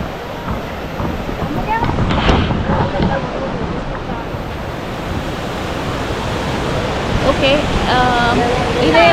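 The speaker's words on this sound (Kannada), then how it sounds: "ಮಂದಾಕಿನಿ ನದಿ ತುಂಬ ಆಗಿ ಹರಿತಾ ಇದೆ" The Mandakini river flows in full flood on the Kedarnath Yatra route, making a steady, loud broadband rush of churning water throughout, with faint voices heard in the background.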